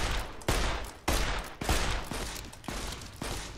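Gunfire in the post-apocalyptic shooter Fallout: New Vegas: six loud, close shots spaced roughly half a second apart, each a sharp crack trailing into a noisy ring that overlaps the next.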